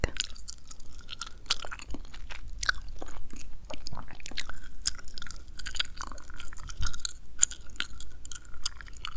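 Intense close-up gum chewing, a constant run of wet smacks and clicky crunches in an irregular rhythm, intimate and quiet with no talking.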